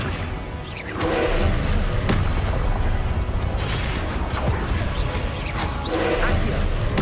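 Spell blasts in a wizard video game, with Confringo among them, thump and whoosh in bursts over a constant rumbling game background; a voice shouts spell names amid the effects.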